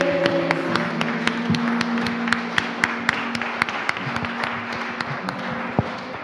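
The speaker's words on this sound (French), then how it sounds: "Et nous allons lui dire merci par les acclamations." A church congregation claps and acclaims, sharp separate claps standing out over a steady crowd noise, with sustained tones running beneath.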